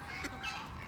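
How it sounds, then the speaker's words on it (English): A white goose with a large orange knob honks near ducks at a feeding spot, a couple of nasal calls close by against a noisy outdoor background. "That's a goose right there with the big orange on it."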